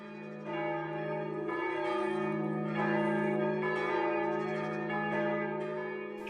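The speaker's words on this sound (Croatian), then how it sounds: "Čuju se zvona manastira Manasije." Church bells of the 15th-century Manasija Orthodox monastery in Serbia, ringing together in a sustained, layered peal with steady overlapping tones that swell and continue throughout, loud and close with no voices.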